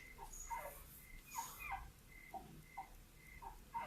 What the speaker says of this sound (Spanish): Aquí se oye un ladrido